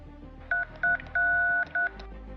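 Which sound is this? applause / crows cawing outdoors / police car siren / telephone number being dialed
telephone number being dialed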